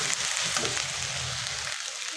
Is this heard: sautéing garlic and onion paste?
yes